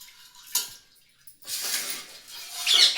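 Dishwashing at home with running water: a few sharp clinks of pots and utensils, then a longer stretch of splashing and rinsing, fairly close and moderately loud, with no talking.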